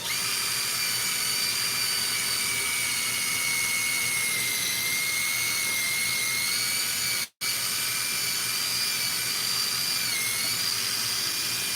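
A steady, high-pitched whining drone with tonal bands from a power drill cutting into material runs unbroken for several seconds, cutting out briefly once, then resuming at the same loud level.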